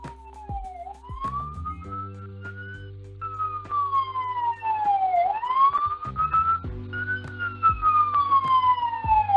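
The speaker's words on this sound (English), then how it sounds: "we got a nice big siren going by" An emergency vehicle's siren wails close by, its pitch sweeping up and down in long rising and falling cycles that grow louder as it passes, with no talking over it.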